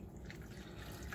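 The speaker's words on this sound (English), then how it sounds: "Now I can zero the scale and add water." Water trickles and drips into a container on a kitchen scale, a faint, close, irregular splashing stream lasting about a second, alone without speech.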